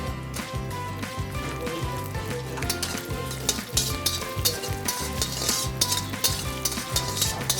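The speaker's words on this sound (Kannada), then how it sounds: "ಕರೆಕ್ಟಾಗಿ ಹದವಾಗಿ ಗ್ಯಾಸ್ ಇಟ್ಕೊಂಡು ಫ್ರೈ ಮಾಡ್ತಾ ಇರಬೇಕು." Cashews and peanuts fry in a pan over a gas flame with a loud, continuous sizzle. Rhythmic scraping stirs and clinks of a spoon against the pan run on top, over a low steady hum.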